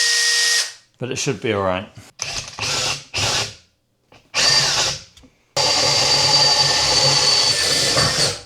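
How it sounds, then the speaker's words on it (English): A power drill with a wobbly chuck whirs in short bursts while drilling holes for a camper van pull-out kitchen, then runs steadily, with a brief spoken remark between the bursts, close by. "I'll now drill the holes"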